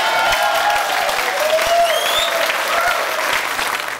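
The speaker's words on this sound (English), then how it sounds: "Give them a round of applause." A studio audience on a TV dating show breaks into loud, sustained applause, a dense wash of clapping with some whoops, lasting about four seconds.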